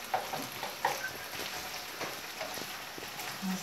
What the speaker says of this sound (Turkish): Oo, salçalı zeytin kızartması.